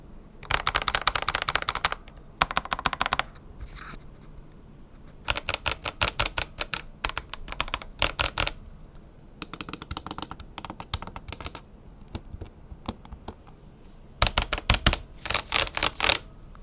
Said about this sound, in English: let's just do a quick button sound check